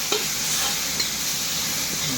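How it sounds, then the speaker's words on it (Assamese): Tengamora (roselle) greens frying in a pan make a constant close sizzle and hiss, with a faint stir or two underneath. "টেঙামৰা শাকটো মই ভাজি আছোঁ"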